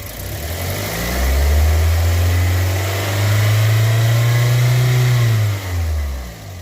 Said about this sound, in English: Let's go ahead and give it a little more gas one more time.